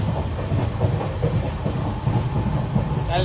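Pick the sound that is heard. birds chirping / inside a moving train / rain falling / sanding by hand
inside a moving train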